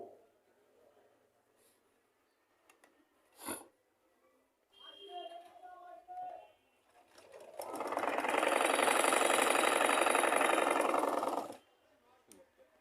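A domestic sewing machine with its upper thread tension nut loosened runs in one loud, steady whirring burst of about four seconds, preceded by quieter handling clicks and a faint hum.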